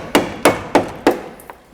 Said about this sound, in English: Whenever you're chiseling panels off, it's good to have a couple chisels.